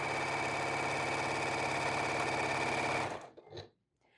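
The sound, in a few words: sewing machine stitching flannel fabric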